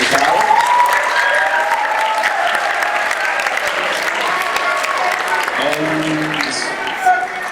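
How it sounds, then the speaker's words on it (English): Audience applause at a high school poetry recital, steady and full for several seconds, with a voice talking over the clapping. "let's give them all a big round of applause."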